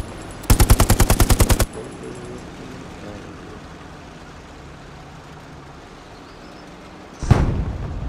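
Artillery strikes a church in Hell Let Loose on PS5. A rapid burst of about a dozen sharp, loud reports is followed by quieter rumbling, and then a single heavy impact lands near the end.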